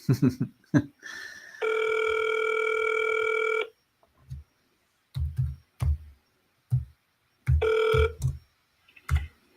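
A telephone ringback tone sounds for about two seconds, then again briefly later, between scattered clicks and taps while a caller waits for someone to pick up.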